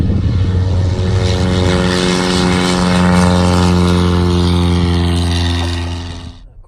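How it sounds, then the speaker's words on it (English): A Cub Crafters NX Cub propeller airplane drones loudly and steadily in flight, a strong harmonic engine hum that holds even before fading out at the very end. "this is my first time flying this airplane"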